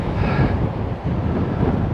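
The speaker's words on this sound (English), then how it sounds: "And the wind is pretty mad." Strong wind at a coastal campsite buffets the microphone with a loud, continuous low roar and gusty rumble, close and unbroken, with no talking.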